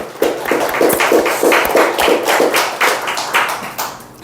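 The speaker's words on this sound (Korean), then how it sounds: "우리 하나님 앞에 영광의 박수를 드리겠습니다" A church congregation claps in worship, a loud rhythmic clap in a steady, even beat, close by and clear, with a few sharper accents.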